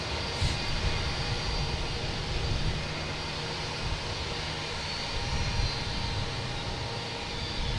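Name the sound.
Turkish Airlines Airbus A350-900 jet arriving from Istanbul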